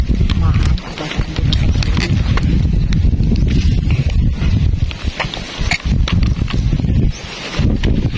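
Strong wind roars and buffets the microphone in gusts beside a small stream, with people talking over it throughout.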